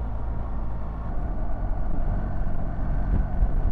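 A 2024 BMW R1300GS ASA motorcycle rides along held in third gear, its engine a steady, low, rumbling drone with wind noise, continuous and fairly loud throughout.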